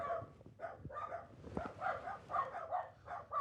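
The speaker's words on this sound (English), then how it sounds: "Even those dogs are so pissed." Dogs barking and yapping near a home construction site, a quiet run of repeated barks heard from some distance, with no voices.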